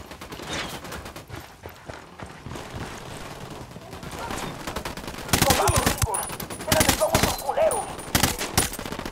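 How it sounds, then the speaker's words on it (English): Gunfire from the Ghost Recon Wildlands video game during a firefight with cartel gunmen, bursts of rapid shots growing louder and denser in the second half, mixed with game effects and background talk. "I'm opening fire."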